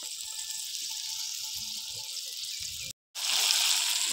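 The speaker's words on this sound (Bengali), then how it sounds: "এই মশলা বাটা জলটা দিয়ে দিচ্ছি।" Water mixed with ground spice paste is poured into masala frying in a pan for a bottle gourd kofta curry, making a steady, close hiss and sizzle that drops out briefly before surging back louder.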